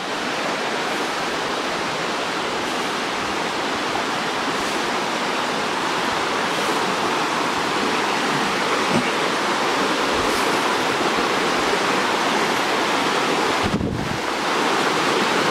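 Creek water flows and rushes steadily in a broad, close, continuous wash that stays constant throughout, with no voices.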